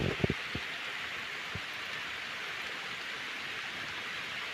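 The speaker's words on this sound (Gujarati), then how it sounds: "અત્યારે જે વરસાદની જરૂર હતી તે પ્રમાણે વરસાદ આવી ગયો છે" Rain falls over a village as a steady, even patter, with a few soft knocks near the start and no voices.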